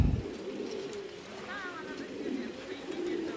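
Racing pigeons at a loft, with soft cooing and wing flutters under a steady outdoor background, while someone talks nearby.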